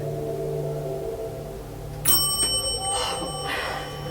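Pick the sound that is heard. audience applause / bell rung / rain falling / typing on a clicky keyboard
bell rung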